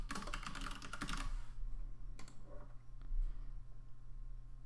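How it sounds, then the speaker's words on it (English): An email address is typed on a computer keyboard as a quick run of close keystrokes, followed by a few scattered key clicks over a low hum. "I'll go ahead and type my personal email."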